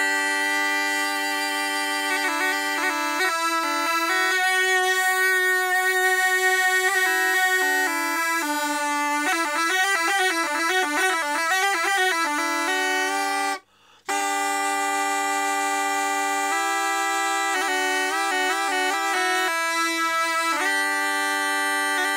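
An Ionian aulos, a double-reed pipe played with three finger holes on each pipe, sounds a bright, buzzy, sustained reedy tone with shifting notes and rapid trills, played alone and fairly loud with one brief pause midway.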